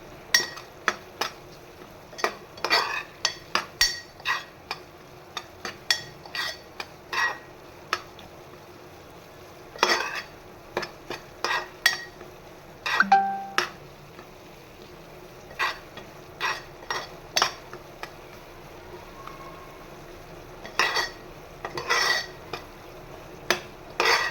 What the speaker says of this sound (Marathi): म्हणून मी ढवळते असं.